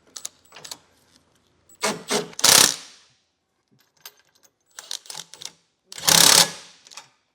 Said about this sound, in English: Once you get all of those flange nuts started, we're going to snug them down. I'm using a 1/2-inch impact.